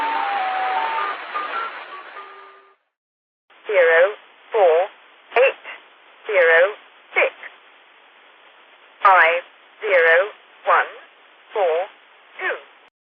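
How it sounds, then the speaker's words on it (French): A shortwave numbers station broadcast plays a series of short spoken number groups at regular intervals, narrow-band radio quality with a brief tonal signal at the start and pauses between each number. "Voici quelques exemples de stations de nombres."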